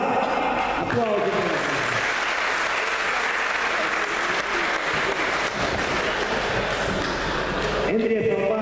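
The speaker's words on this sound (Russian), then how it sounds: "Аплодисменты." Sustained audience applause fills an arena at a Moldovan Greco-Roman wrestling championship, loud and steady for several seconds, with an announcer's voice cutting through at the start and end.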